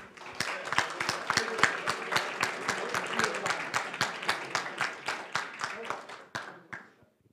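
Audience at an awards gala in Chmielno claps in a steady rhythm, sharp, evenly spaced hand claps repeating close and loud for several seconds before thinning and stopping near the end.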